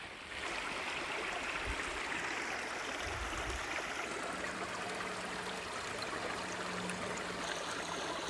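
Water flows steadily in a stream nearby, a constant soft rushing with a faint low hum joining partway through.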